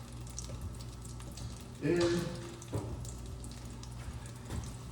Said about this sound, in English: we're just gonna pop those in a frying pan with some butter